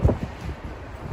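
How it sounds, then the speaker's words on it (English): Wind buffets a microphone outdoors in Manhattan, giving a loud, rumbling low roar with gusty thumps at the start and a steady blustery wash throughout. "sorry, it's getting windy here."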